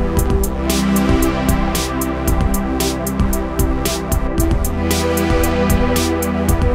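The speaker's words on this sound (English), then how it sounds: "lush, thick synth pad sounds like this synth-wave loop" A lush, thick synth-wave pad loop from a Baby Audio BA-1 soft synth swells steadily and loud under a driving drum beat with crisp hats, continuous throughout.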